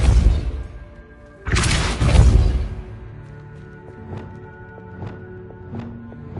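Hogwarts Legacy Depulso spell casts as two loud whooshing bursts with crackling force, followed by a lower hum and a run of ringing chimes and tones.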